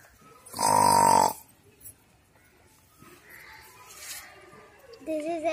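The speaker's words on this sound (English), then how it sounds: "Cow make a lowing sound." A cow lows once near the start with a loud, drawn-out moo, then there is a quieter stretch of faint noises and a short voice at the end.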